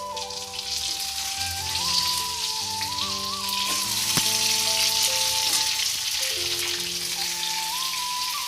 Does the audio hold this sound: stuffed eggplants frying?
yes